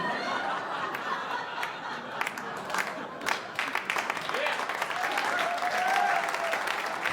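A comedy club audience breaks into scattered claps and chuckles that build into fuller, louder applause toward the end, with a voice talking over the start.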